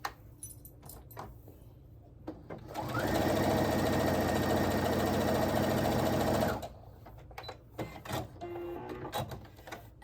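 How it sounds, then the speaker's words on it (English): A sewing machine stitches a fabric strip onto a quilt in one steady, close, whirring run of a few seconds, framed by quieter handling noises before and after. "I'm just going to sew that one on."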